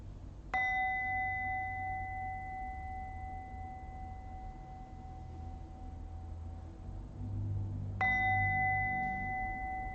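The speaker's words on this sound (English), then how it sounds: "you can listen to the sound of the meditation bell" A meditation bell struck twice, each ring a clear bright tone with a long, slowly fading sustain, the second strike coming about seven seconds after the first over a faint low background hum.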